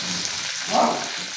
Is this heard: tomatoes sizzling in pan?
yes